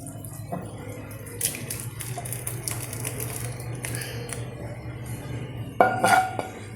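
Payasam of beetroot, banana and carrot with ghee is moved into a vessel in a home kitchen, with scattered metallic clinks and taps of pots and spoons over a low background hum, a louder ringing clink near the end.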